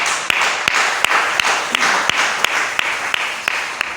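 A church congregation applauds in a steady, crowded wash of clapping, with sharp louder claps recurring at a regular beat over a sustained roar of hands, moderately loud and with no talk.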